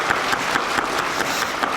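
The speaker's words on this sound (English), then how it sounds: "please join me in giving him a round of applause" Audience applause at a policy talk, steady broadband clapping that holds at an even level throughout with no voices standing out.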